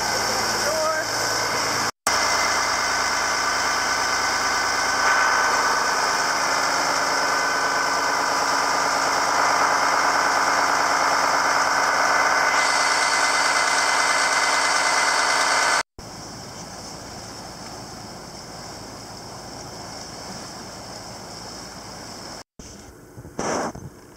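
Boat engine running in the engine room while cruising the Chesapeake Bay, a loud steady drone with a constant hum, cut by abrupt breaks and a shift to a quieter, duller rumble later.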